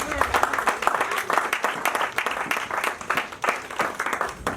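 A church congregation applauds to acclaim God, loud dense clapping from many hands that rises and falls in waves, with voices talking and calling out over it.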